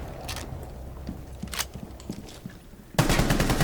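A UMP45 submachine gun fires in the video game Rainbow Six Siege: short scattered bursts over faint background noise, then a louder sustained burst at the end.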